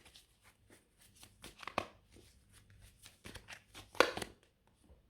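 Tarot cards being handled and shuffled during a reading: soft, irregular papery flicks and slaps, several short bursts with quiet gaps, close and fairly faint, no talk.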